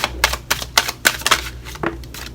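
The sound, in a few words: shuffling tarot cards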